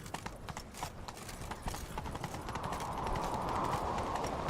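Galloping hooves pound in quick, steady rhythm during a horseback chase in The Witcher 3, fairly close and continuous, growing slightly louder and denser toward the end.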